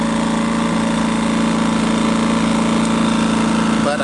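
A Westinghouse iGen2200C portable inverter generator runs outdoors with a steady, loud engine drone and a constant hum, unbroken for the whole stretch, with a brief shift in tone near the end.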